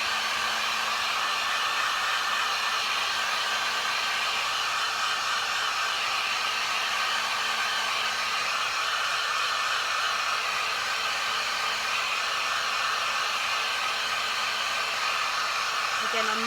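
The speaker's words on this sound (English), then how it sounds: "I'm going to come back here and use my heat gun again, just to help speed up this curing process." A heat gun blows steadily and loudly at close range, a constant hot-air roar lasting throughout as it cures silicone on a reborn-style silicone baby doll.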